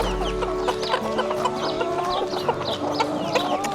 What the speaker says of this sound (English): Funny chickens.